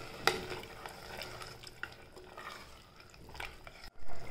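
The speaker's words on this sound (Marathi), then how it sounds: "आता हे जरा परतून घ्यायचं मसाला" Steady stirring of masala sautéing in a pan for a jackfruit curry, with a soft sizzle underneath, a spoon occasionally knocking the metal, close and fairly quiet.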